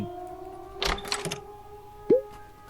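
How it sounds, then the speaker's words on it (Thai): A siren in the video game Zompiercer, a steady droning tone running throughout, with a few muffled clunks and a short rising blip near the end. "แล้วมันเสียงอะไรไซเรนเหรอเนี่ย"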